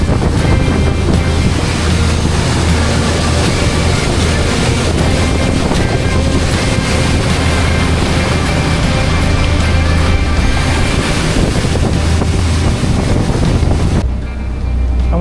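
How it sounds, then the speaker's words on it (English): Loud, continuous engine drone from a boat moving over water, its port engine shuddering, mixed with wind buffeting and rushing water, steady until it drops away near the end. "We still got that bit of shuddering from the port engine."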